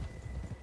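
Horse hooves gallop in Red Dead Redemption 2, a quick steady clip-clop rhythm lasting under a second, faint and without talk.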